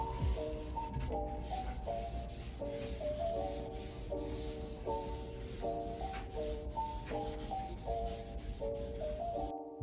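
Steady rubbing strokes of sandpaper on a wooden handle run continuously and close by, with a repeating melodic tune playing in the background throughout.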